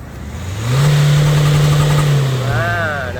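A tuned car on its stock exhaust, with boost set around thirty psi, revving once in a loud, sustained close-up surge that holds and then eases back toward idle, and a voice briefly speaking near the end.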